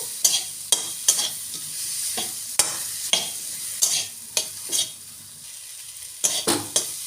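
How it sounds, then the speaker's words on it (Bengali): Tomato and slit green chillies get stirred in a frying pan, with a soft sizzle underneath and a series of sharp scraping knocks of the spatula against the pan at irregular intervals, close and without speech. "কাঁচা লঙ্কা চিরা আর টমেটো দিয়ে দেবো একটা বড় টমেটো এবার টমেটোটা একটু নাড়বো"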